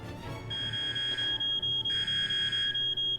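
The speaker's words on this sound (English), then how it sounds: "I wish it were that hard to set my fucking smoke alarm off." A smoke alarm goes off with a loud, close electronic beeping that pulses in a rapid repeating pattern through the whole stretch, over low background hum.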